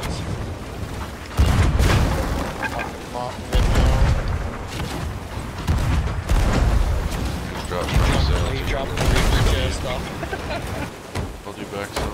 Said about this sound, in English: Shoot up the cannons.